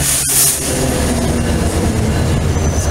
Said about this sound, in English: Here comes our train. There it is. The 301 Virginia Rail Express.